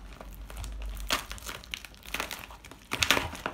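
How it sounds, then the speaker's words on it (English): A package is unwrapped by hand, with close, crisp crinkling and rustling of the wrapping in short irregular bursts, plus a brief tearing sound near the end, with no talking. "Finally, I'm going to open the package."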